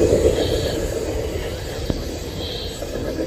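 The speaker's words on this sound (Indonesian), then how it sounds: "Wow, ada kereta cepat teman-teman." A high-speed train rushes past with a broad, steady rumble and rushing roar that stays loud across the whole stretch, with one sharp click midway and faint background voices.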